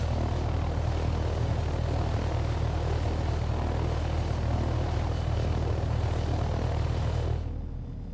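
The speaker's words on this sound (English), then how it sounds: "It's going to take some finagling with the auto hover and the helicopter itself" A helicopter in the DayZ Expansion video game on the World War III map drones loudly and steadily with rotor and engine noise, then drops off sharply near the end.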